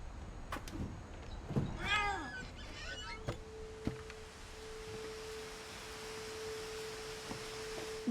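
A cat in the video game What Remains of Edith Finch gives a few short, close meows early on amid soft ambient game sounds, followed by a steady tone.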